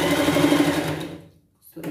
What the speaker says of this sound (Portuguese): Volta costurando para completar.